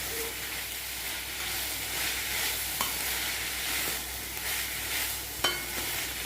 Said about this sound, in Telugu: ఇది ఒక 10 మినిట్స్ ఇలాగ వేగుతుంది మీడియం ఫ్లేమ్లో.